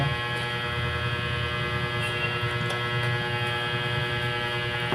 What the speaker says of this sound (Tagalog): Naandar ang electric fan mo.